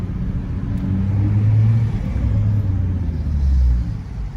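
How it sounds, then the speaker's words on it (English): A Nissan GT-R R35 with its V6 engine rumbles low and deep, swelling in short revs twice, close and loud with no talk. "Just listen to that. That engine. You wouldn't think that's a V6."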